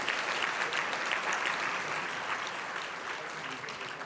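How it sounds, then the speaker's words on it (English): An audience at an annual mental health recovery services board recognition ceremony claps steadily throughout, a dense even round of applause at moderate level. "Why don't you give yourselves a big round of applause for just being here."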